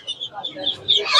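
Chickens at a poultry market, with a few short close clucks and squawks rising near the end, mixed with voices.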